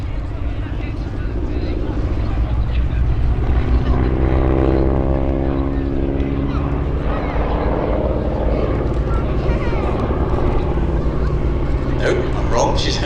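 A propeller biplane carrying a wing walker makes a slow speed pass at the Sywell Airshow, a loud, steady droning engine with a rising and falling pitch as it goes by, while a commentator talks over it.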